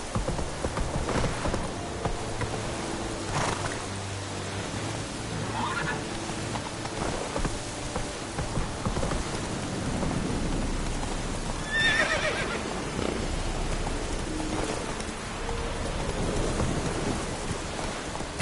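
Roach, Geralt's horse in The Witcher 3: Wild Hunt, gallops through rain, hooves pounding steadily under continuous rainfall and rolling thunder, with an occasional whinny and faint game sounds mixed in.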